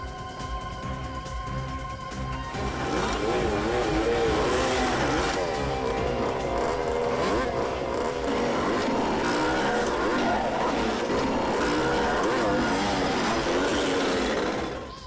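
Superbike engines rev loudly and roar past at close range in a sustained, shifting drone, several machines overlapping without letup.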